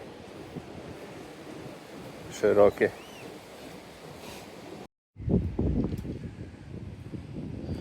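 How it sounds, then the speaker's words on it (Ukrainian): Strong wind roars and buffets the microphone in heavy, rumbling gusts on a forest road, cutting out briefly before surging back; a voice speaks a word partway through. "Не дозволяє вітер знімати, не дозволяє"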